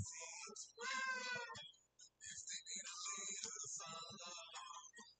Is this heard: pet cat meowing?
yes